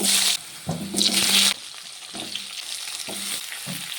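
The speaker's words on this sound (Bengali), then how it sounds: "এই তেলের মধ্যে আলুটাকেও ভেজে নেব" Potato pieces fry in hot oil left over from frying fish, a loud sizzle with bursts of stirring and scraping that drop to a quieter, steady crackle.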